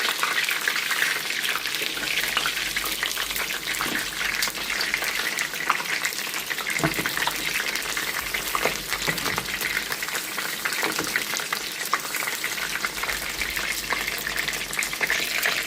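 Continuous loud sizzling of white water frying in a pan at home, a steady broadband hiss with occasional crackles and stirring scrapes, no talk.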